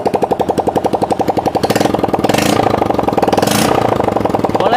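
A motorcycle engine runs with no exhaust pipe fitted. It starts as a loud, raw, evenly pulsing idle, then revs higher into a faster, denser, harsher drone that holds until the end.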